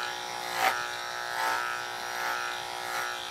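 An electric dog clipper fitted with a 10 blade hums steadily while cutting through a Goldendoodle's thick coat, close and moderately quiet, its buzz swelling in soft repeated strokes.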